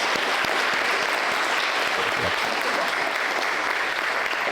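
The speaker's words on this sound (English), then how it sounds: "let's give people a round of applause" Steady applause from a crowd at a political group's general meeting, dense clapping that holds evenly throughout with no voices standing out.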